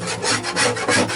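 Old sealant being scraped out of an RV refrigerator cooling unit, a close, steady rasping scrape repeated in rhythmic strokes with no talk.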